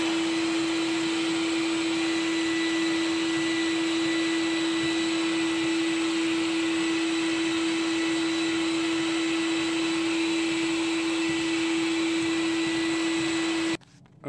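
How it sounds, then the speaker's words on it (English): A vacuum cleaner cleans out an AC unit that is blowing hot air, a steady loud motor whine with an even pitch running continuously alone until it cuts off abruptly near the end. "I'll go ahead and vacuum them and then show you what it looks like."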